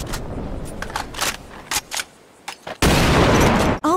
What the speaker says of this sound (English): Oh no, somebody is shooting at us.